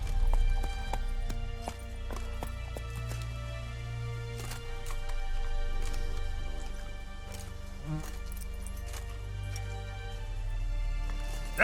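Roach, a horse in The Witcher 3, gallops in a steady quick clip-clop of hooves over a low rumbling background, the hoofbeats fairly soft, with no talk over them.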